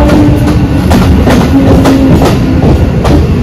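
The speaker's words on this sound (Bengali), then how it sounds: "আরেকটা ট্রেন চলে যাচ্ছে শিয়ালদার দিকে।" A train bound for Sealdah rolls past close by, loud and continuous, with rhythmic clickety-clack of wheels over rail joints and a faint metallic squeal.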